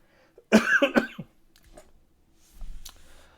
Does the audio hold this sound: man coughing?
yes